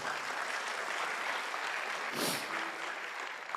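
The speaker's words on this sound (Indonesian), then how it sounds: "gak ada salahnya tepuk tangan yuk buat TNC dan One Vision" An audience at a motivational business seminar claps steadily, a broad, even patter of many hands sustained throughout, with a brief brighter swell of noise partway through.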